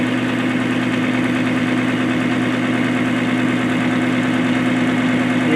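An oil wear test machine grinds with a loud, constant mechanical drone and a strong low hum. The sound stays even throughout, with no other sounds.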